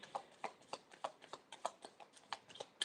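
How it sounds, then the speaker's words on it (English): Tarot reading cards being shuffled close up, a steady series of soft riffling snaps and taps roughly every third of a second, quiet and with no talking. "I am seeing, just while I'm shuffling for you,"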